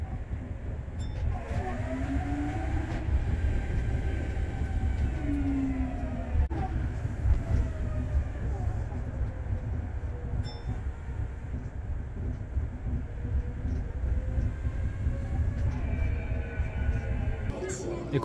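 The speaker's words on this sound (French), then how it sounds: "monter dans un tram monorail au-dessus de la ville" A monorail tram rolls above a city in Japan with a steady low rumble and rising and falling motor whine throughout, heard from inside the car, with faint voices in the background.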